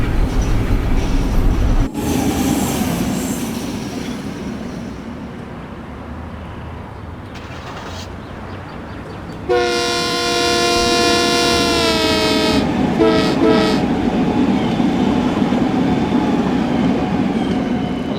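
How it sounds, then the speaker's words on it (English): A Long Island Rail Road M9 electric train in Train Sim World runs on the line to Long Beach, with a steady rumble and wheel noise, a sharp clunk early on and a loud multi-tone horn blast midway. "I love the sound of this train"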